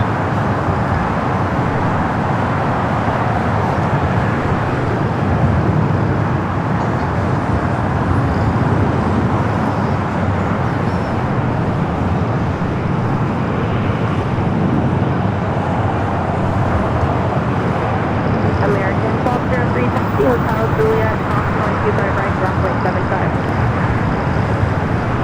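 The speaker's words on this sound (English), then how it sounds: "Flight 52 heading back to Vienna on this 777 at 200 ER" Boeing 777-200ER airliner departing Los Angeles International Airport for Vienna, a continuous distant jet roar lasting the whole stretch, steady and broadband, mixed with general airport and road traffic noise.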